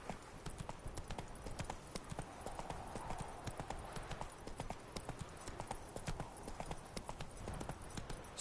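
Hooves of Roach, a horse galloping in The Witcher 3, pound in a steady rapid rhythm, quiet and continuous, with faint game ambience beneath.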